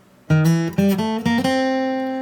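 A short bluegrass lick in C on acoustic guitar: a few quick plucked notes in succession, ending on a ringing note that slowly fades.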